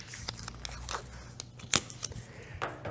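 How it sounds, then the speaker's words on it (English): Tape is torn off and pressed onto a router template in an epoxy resin and woodworking shop, making quiet, close crackling rips and brief sticky snaps in a few separate bursts. "you would cover your variety of areas with your tape like this"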